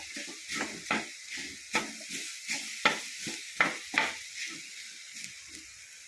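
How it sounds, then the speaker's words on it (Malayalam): Beef sizzling and being stirred in a hot pan, with repeated scraping strokes at an irregular rhythm over a steady frying hiss. "തുള്ളിയും ചാറില്ലാതെ നമുക്ക് വഴറ്റിയെടുക്കണം ഇറച്ചി ഒന്ന് വേവട്ട്"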